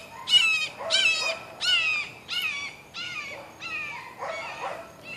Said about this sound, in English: There's a bird. Here he comes.